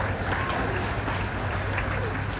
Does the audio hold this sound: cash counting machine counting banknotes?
no